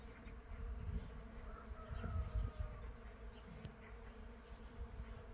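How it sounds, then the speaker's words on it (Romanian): Bees humming and buzzing around blossoming flowers outdoors, a steady low drone with occasional louder passes as insects fly near, continuous through the whole stretch with no talking. "Nu vreți să știți cum se aud albinele."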